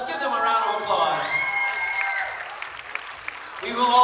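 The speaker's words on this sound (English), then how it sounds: "Let's give them a round of applause." Applause and scattered cheering from an audience greets award winners at a Philippine Global Queens 2019 pageant coronation night, mixed with tonal music and voices, easing in the middle before swelling again at the end.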